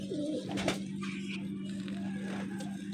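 A Tamla Petty pigeon coos close by, a low soft throaty call over a steady background hum, with no one talking.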